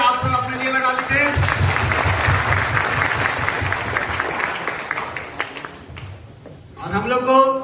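Audience applause and clapping in a hall at a motivational business seminar, a dense patter running several seconds with a voice over it, easing off near the end before a voice and renewed noise rise.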